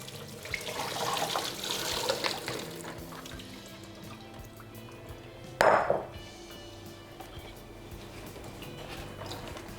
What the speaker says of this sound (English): So I'm just going to drain them onto here.